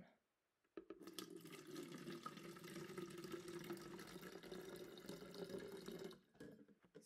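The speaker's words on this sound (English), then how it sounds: "we're going to take our bottle of rain and we're going to pour it into the wetland" Water pours from a bottle into a wetland model, a steady splashing trickle that starts abruptly after a brief quiet, runs for several seconds, then tapers off; faint and close.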